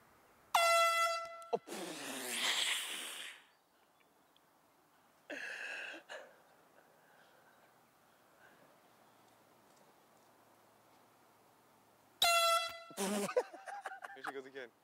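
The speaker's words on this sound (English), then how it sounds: "When people tee off, when they're coming down with their swing, we're going to blow these air horns." Loud air horn blasts ring out on a golf course as golfers tee off, a couple of sharp bursts at the start and again near the end, with voices and laughter in between.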